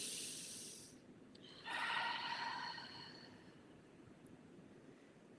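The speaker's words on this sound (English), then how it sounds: "take a deep breath" One slow, deep breath drawn in and let out softly through the nose and mouth, close and quiet, a faint airy hiss in a calm, still room, with no talking.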